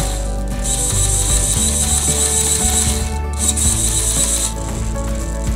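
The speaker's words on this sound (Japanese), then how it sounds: "サーボはね、以前よりかは速くなってます。" An RC servo in an Ultima on a bench test, stock and untouched, whirs and ratchets in quick repeated back-and-forth sweeps, a loud close mechanical buzz with short gaps between movements and no talking.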